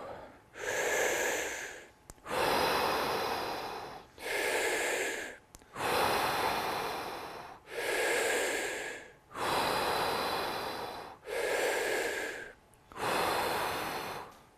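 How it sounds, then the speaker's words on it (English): Deep rhythmic breathing from a Wim Hof Method breathing exercise: about eight strong inhale-exhale cycles, close and clear, with no talking. "Keep breathing. Deep breath in"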